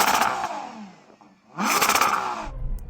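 A Ferrari Purosangue engine revs twice, each burst a loud rising roar that fades back briefly between blips, then a deep idle rumble at the end.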